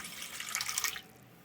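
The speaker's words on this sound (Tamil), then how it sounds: "அரை டம்ளர் அளவு தண்ணி போட்டுக்கலாம்" Half a tumbler of water poured into wheat flour for chapati dough, a brief close splashing trickle lasting about a second before fading to quiet.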